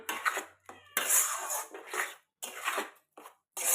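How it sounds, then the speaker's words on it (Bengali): A spoon scrapes and clatters in a pot as semolina is stirred in for carrot ras malai, coming in loud, uneven bursts separated by short silences. "সুজি দিয়ে এটাকে আমি খুব সুন্দরভাবে নাড়বো।"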